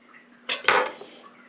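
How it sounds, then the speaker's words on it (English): A butter knife cuts through a crispy meat and potato pie crust, giving two quick, close crunching cracks followed by a short scraping fade. "I'm just using the butter knife."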